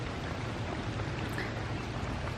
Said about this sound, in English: it is pouring down and it is freezing